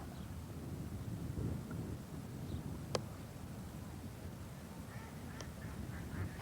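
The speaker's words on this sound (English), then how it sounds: "You can hear probably ducks out there on the lake." Ducks quack faintly and far off across a lake, their calls thin and scattered over a low rumble of wind and distant background noise, with one sharp click midway.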